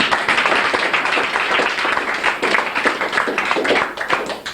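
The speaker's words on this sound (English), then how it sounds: "the three musicians that just played before deserve a round of applause one more time" A folk club audience in a pub applauds the musicians who just played, a dense and loud burst of clapping that holds steady for several seconds.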